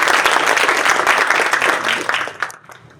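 Audience at a seminar in Singapore applauding the chairman, a dense burst of many hands clapping close by for over two seconds before it thins and fades out.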